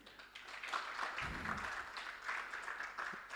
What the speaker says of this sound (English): we give Martin a round of applause